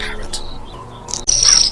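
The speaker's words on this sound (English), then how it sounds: "This must be Jasper, the parrot" A parrot in the video game The Lost Crown gives sharp, loud squawks in bursts, ending in a harsh shrill call, close and with no talk over it.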